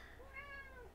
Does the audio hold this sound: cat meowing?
yes